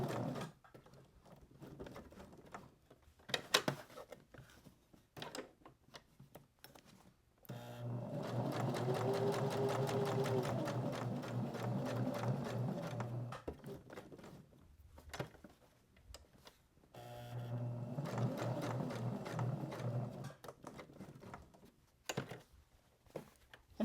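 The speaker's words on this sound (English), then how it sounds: "So I'm just going to start with my needle down and just go all the way around." A sewing machine stitches around a fabric journal cover in two long steady runs, with quiet pauses, clicks and fabric handling in between.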